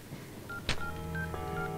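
A telephone is dialed, a short series of clear keypad tones with a brief sharp click in the middle, in a quiet indoor setting.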